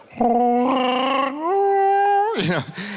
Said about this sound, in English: when I recorded it, and just on my iPhone, and I slowed it down, and it sounded like a baby Wookiee